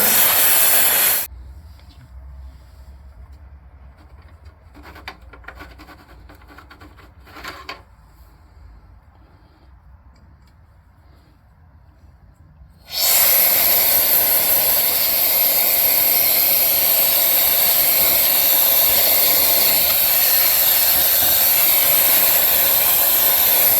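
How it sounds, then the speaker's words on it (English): A Jet Power J01PRO electric air duster blowing dust out of a small PC case: a loud, steady high-pitched hiss and rush of air, briefly cut off for a quieter stretch of faint handling clicks, then starting again and running continuously. "air from the can and from electric device. Small PC case dust cleaning test"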